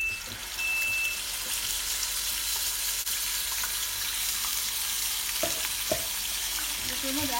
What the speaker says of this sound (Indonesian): Tumis cabai yang sudah dihaluskan.